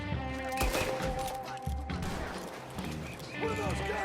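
Gunfire in Red Dead Redemption 2: a few sharp, loud shots crack out at irregular intervals while people talk over the action.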